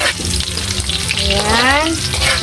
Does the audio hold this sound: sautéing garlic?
yes